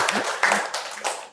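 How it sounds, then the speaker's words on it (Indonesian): Short burst of applause in a classroom teaching practice session, given for a participant who has just finished his practice, with clapping rising and fading over about a second. "Ini tepuk tangan ya buat Mas Yunivan ya"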